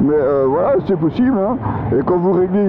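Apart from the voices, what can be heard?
No everyday noises stand out.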